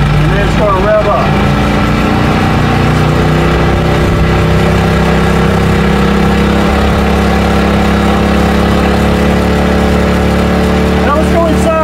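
A PowerSmart 2500 watt generator runs loud and close, its engine holding a steady, buzzing drone with a strong low hum for the whole stretch.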